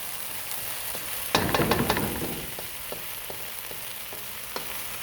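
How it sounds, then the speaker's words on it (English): Vegetables cooking for lobster fried rice are stirred in a hot pot, a sudden burst of sizzling and scraping clatter midway over a constant frying hiss, with a few lighter taps afterward. "while we're stirring in the pot and getting our vegetables nice and cooked through"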